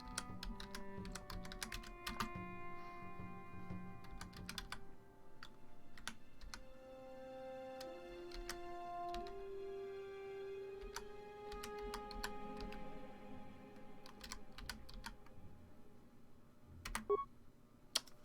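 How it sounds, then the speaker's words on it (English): Computer keyboard typing during a stream of Star Wars: Knights of the Old Republic, a steady run of close, crisp key clicks over a low background hum, with a couple of louder taps near the end. "Here I am typing away for no fucking reason."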